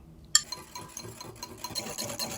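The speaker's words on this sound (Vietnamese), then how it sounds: "Bây giờ thì mình cho 1/3 cốc phô mai mascarpone vô và 6 muỗng canh chanh vô tô khuấy đều lên" Mascarpone cheese and lemon juice are stirred in a bowl, a spoon giving soft, close scraping and rubbing strokes after an initial clink, quiet and alone.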